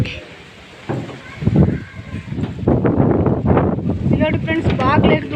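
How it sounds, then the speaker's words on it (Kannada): Strong wind buffets the microphone on top of a hill at a Shiva temple in Tamil Nadu, with a steady rush and gusts under people talking throughout. "ಜಾಸ್ತಿ ಗಾಳಿ ಆಗ್ತೈತೆ, ಹಂಗಾಗಿ ಏನು ಕೇಳಿಸ್ತಾ ಇಲ್ಲ ಕರೆಕ್ಟಾಗಿ"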